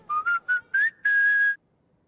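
A short whistled McDonald's advertising jingle: four quick rising notes followed by a longer held note, clear and close with no voices.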